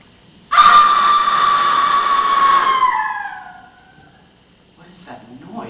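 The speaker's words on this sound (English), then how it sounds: "It is the cry of woman" Long, loud, wailing cry of women from offstage during a school theatre production of Macbeth, holding high and steady for a couple of seconds before fading, followed by quieter stage sounds.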